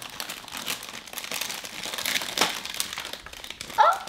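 Crinkly paper or plastic being torn open and crumpled from an advent calendar surprise package, a steady close rustle with a sharper tearing burst near the end.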